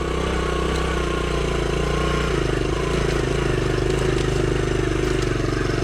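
A Honda Trail CT70 mini motorcycle engine runs loud and close on a woodland trail, a continuous buzzing putter with steady rhythm and slight throttle swells throughout.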